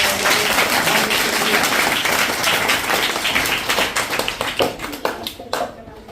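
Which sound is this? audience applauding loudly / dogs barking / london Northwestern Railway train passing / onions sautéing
audience applauding loudly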